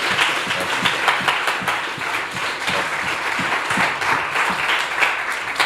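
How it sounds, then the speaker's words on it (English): An audience at a youth council meeting gives the students a sustained round of applause, a dense and even wash of many hands clapping throughout, close and fairly loud. "give the students a round of applause"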